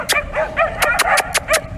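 Young hunting dog, a female just over a year old, barking and yipping on a rabbit hunt in São Miguel, Azores: rapid, loud, close barks and yelps in quick succession outdoors.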